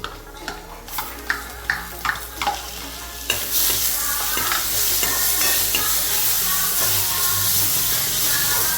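Finely chopped tomato hits a pan of wheat-flour batter already browning. A few sharp stirring knocks come first, then a loud, steady sizzle rises and holds close up to the end.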